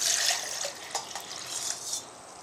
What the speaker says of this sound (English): So let's pour our water in.